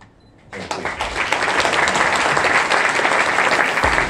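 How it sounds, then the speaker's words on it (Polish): An audience at a speech contest breaks into loud, sustained applause after a brief quiet moment, dense many-handed clapping continuing steadily to the end. "Wielkie oklaski."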